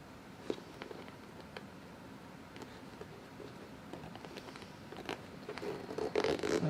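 A plastic zipper pull slides onto clear zipper tape with soft, close scraping and light clicks, growing into a louder rustling zip toward the end, with no talking.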